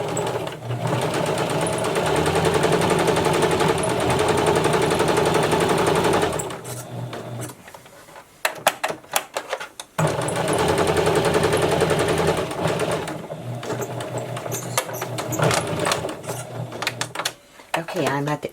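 A domestic sewing machine stitches a diamond-shaped fabric filter face mask, running in long steady bursts with a brief pause and stop-start stitching midway, close and loud.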